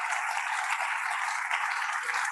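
Students applauding at a university inauguration program, continuous dense clapping from a large group, steady and evenly loud with no speech.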